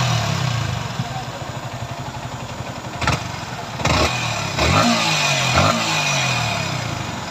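A repaired motorcycle engine running after a sound-problem check-up: a close, steady idle punctuated by several short throttle revs that swell and fall back, with someone talking over parts of it.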